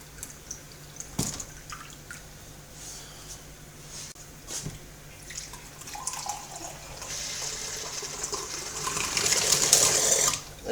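Water rinsed through a kegerator keg drips and splashes in irregular spurts, building toward a steadier rush of flowing liquid near the end, close by with no talk.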